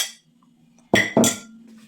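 Two sharp clinks of a utensil against a bowl while chicken quiche filling with mushrooms is mixed, close and distinct over quiet kitchen background.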